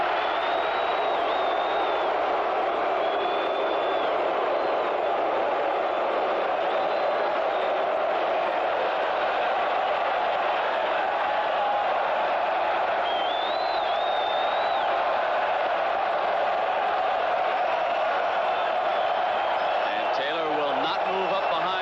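A football stadium crowd keeps up a sustained roar of cheering and whistling at a 1988 Notre Dame game, steady and loud throughout, with a few sharp whistles rising above it.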